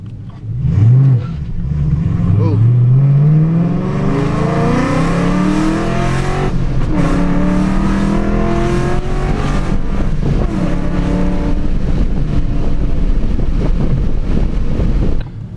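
A procharged Dodge Challenger R/T launches on an eighth-mile run, its engine roaring loud and close as it climbs through the gears under heavy wind buffeting.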